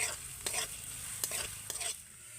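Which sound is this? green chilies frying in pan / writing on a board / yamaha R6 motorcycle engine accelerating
green chilies frying in pan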